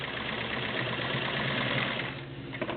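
Kenmore model 1652 low shank sewing machine stitching, a close, steady rapid mechanical whirr and clatter that eases slightly near the end.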